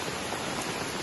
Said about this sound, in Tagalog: umuulan, sayang.